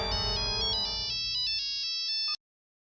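A phone ringtone plays close and clear, a bright electronic melody of quick repeating notes that runs for about two seconds and then stops abruptly.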